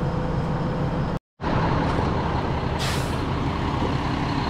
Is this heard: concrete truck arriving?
yes